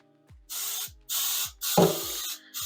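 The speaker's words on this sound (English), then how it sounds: "I'm going to just do a little bit of spray" Cooking spray from an aerosol can coats a baking dish for au gratin potatoes in three close, loud hissing bursts, each about half a second long and separated by short silences, with a faint click at the start of the last.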